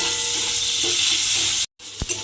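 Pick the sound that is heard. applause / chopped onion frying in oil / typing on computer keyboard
chopped onion frying in oil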